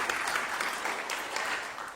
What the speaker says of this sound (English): so can we get a small round of applause for these folks?